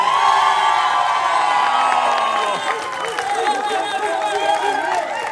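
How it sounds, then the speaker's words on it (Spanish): A studio audience on a Spanish-language late-night comedy show cheers and whoops loudly over clapping, with excited shouting voices rising and falling throughout. "Ahora voy a pedir el aplauso para Donovan."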